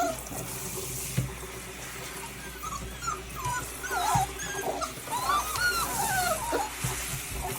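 A tired puppy whines in thin, rising whimpers over running water from a tap in a bathtub, with occasional soft thumps nearby.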